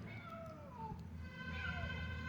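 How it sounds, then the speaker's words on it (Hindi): A cat meows several times in short, drawn-out cries, close by, over a low background hum. "तुम्हें साउंड आ रही है बिल्ली की?"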